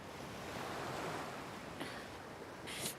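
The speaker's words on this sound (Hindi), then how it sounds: "ओह, तो ये समंदर है। ये तो खूबसूरत है," Surf washing onto a seashore forms a steady broad roar, with a couple of brighter hissing swashes as waves break near the end; no voices.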